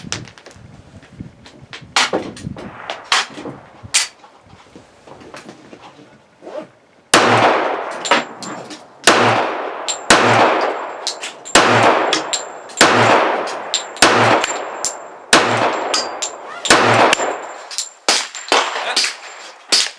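Girsan MC 1911 S Untouchable .45 ACP pistol fired outdoors at a range, a run of loud, sharp shots with ringing metallic clangs, spaced roughly a second apart after quieter handling sounds at the start.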